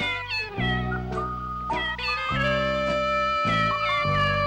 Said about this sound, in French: t'as un moment musical où le chat chante